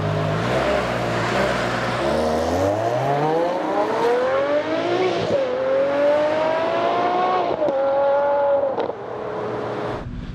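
Ferrari 599 GTB V12 fitted with an X-pipe exhaust and short springs, revving loud and close with rising and falling high-pitched engine notes across several pulls, no talking.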